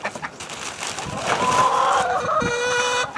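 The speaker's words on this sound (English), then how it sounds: "All the chickens and the ducks." Chickens clucking and crowing on a backyard farm with ducks, a busy flurry of fowl calls rising and falling continuously at moderate loudness, close to the listener.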